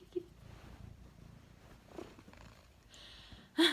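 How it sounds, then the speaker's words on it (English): A house cat purrs softly nearby in a quiet indoor room, a faint low rumble that runs on and ends in a brief louder rustle. "there was a cat in here that I did not know was in here"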